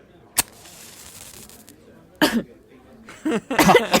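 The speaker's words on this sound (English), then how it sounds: "At first I thought she was literally just coughing." Someone coughs in a tabletop role-play scene, short sharp bursts: one brief cough early, then a louder cluster of rough coughs and throat noises near the end, with quiet gaps between.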